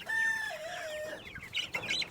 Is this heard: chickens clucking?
yes